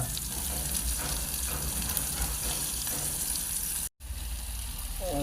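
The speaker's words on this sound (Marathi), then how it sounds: "भरीत बनवण्यासाठी प्रथम आपण टोमॅटो टाकणार आहोत, त्याला चांगलं फ्राय होऊन देणार आहोत" Tomatoes fry in a pan, heard as a continuous hissing sizzle with a watery gushing texture close up, cut by a brief moment of silence near the end.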